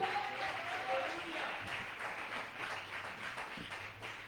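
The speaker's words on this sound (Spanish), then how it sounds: "¿Cuántos aplauden al Señor?" A church congregation applauds during a sermon, moderate clapping with a brief voice near the start, the applause holding fairly even at a modest distance.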